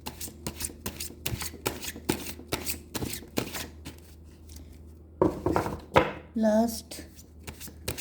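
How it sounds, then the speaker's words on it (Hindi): Tarot cards being shuffled by hand in a series of crisp, rapid riffling bursts, fairly close, followed by a short pause and a final flurry; a voice speaks briefly near the end. "shuffle this one."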